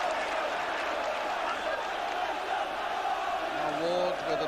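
At a 1986/87 First Division game between Newcastle United and West Ham United, the stadium crowd keeps up a constant loud roar, with a chant lifting out of the din near the end.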